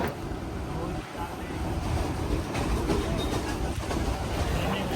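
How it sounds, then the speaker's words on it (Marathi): A Mumbai suburban local train travels from Malad toward Churchgate, heard from inside the carriage as a steady, loud rumbling roar with faint rhythmic rail clatter throughout and no clear talk. "आमचा लोकलनी प्रवास सुरू झालेला आहे"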